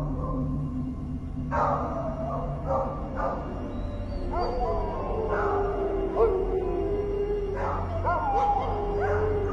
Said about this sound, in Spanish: Primero fueron unos aullidos lejanos. Unos perros comenzaron a alborotarse en lo alto del cerro.